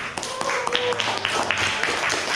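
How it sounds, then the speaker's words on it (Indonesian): A classroom of students claps in scattered, uneven bursts, moderately near, with voices mixed in beneath the applause. "Baik, tepuk tangan."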